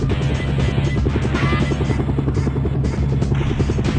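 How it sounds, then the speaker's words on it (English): Enemy helicopters in a Sega Saturn flight game, a loud steady rotor drone with fast blade chop that holds unbroken throughout, close and dominant. "We're going to fucking jump you with eight enemy helicopters."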